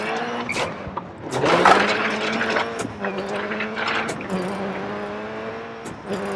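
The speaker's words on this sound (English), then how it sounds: "So you turn in, clutch down, handbrake on, back on the power, and that's your handbrake turn." A Subaru Impreza WRC2001 rally car in the DiRT 4 video game, its engine droning and revving through a handbrake turn, with pitch dipping and climbing again as the power comes back on, loud and close, no speech.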